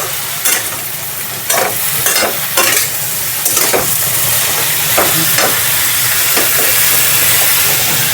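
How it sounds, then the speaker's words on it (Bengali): Bottle gourd pieces stirred and fried in hot oil, a loud close sizzle broken by repeated scraping spatula strokes at an uneven pace, with no talking. "এভাবে একটু লাউটাকে নাড়াচাড়া করে নিতে হবে"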